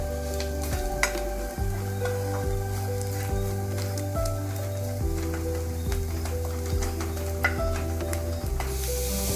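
Chili powder, coriander powder, turmeric and masala sautéing in a pan for palak paneer, a steady close sizzle and frying hiss throughout with occasional stirring scrapes, no voices.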